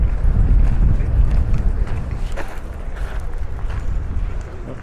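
Gusty wind buffeting the microphone outdoors beside the reflecting pond on the National Mall in Washington DC, a steady low rumble rising and falling, with faint voices in the background.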